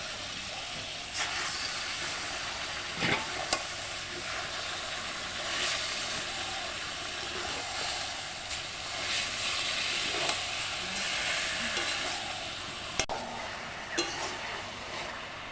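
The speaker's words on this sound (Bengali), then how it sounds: "এবার দিয়ে দিলাম কচু শাক।" Taro leaves (kochu shak) sizzle in a pan with ginger paste, salt and turmeric, giving a steady low frying hiss with occasional sharp clicks of stirring, no talking.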